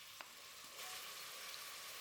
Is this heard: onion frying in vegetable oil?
yes